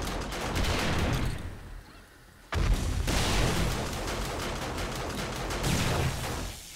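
Dense, rapid video game gunfire from Darkness Falls during a blood moon crackles near and loud, a burst of rattling shots, a brief lull, then sustained firing resumes with booming impacts.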